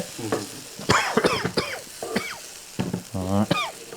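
Cauliflower pieces deep frying with very little oil in an electric multimaker, a sizzle under stirring clatter, with a short cough-like burst and honking squeaks over it.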